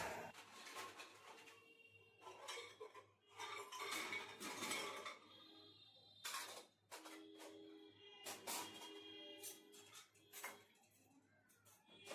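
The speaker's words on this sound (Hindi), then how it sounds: "तो यहाँ पूरे बर्तन भी स्टैंड पे लगा दिए" Steel dishes and utensils are set onto a kitchen rack, with repeated clattering clinks and metallic knocks in uneven bursts separated by short pauses, close and moderately loud.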